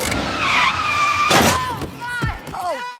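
In a film scene, a car speeds away with its tires skidding and squealing in long, loud, wavering screeches, punctuated by a few thuds, while voices briefly talk over it.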